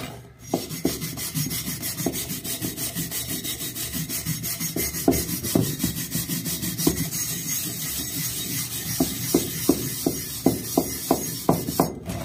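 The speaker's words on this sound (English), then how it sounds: "So I'm just going to work that in with a wire brush real quick." A wire brush scrubs surface rust off an old axe head in steady, close rasping strokes that run continuously, with a few sharper scraping accents toward the end.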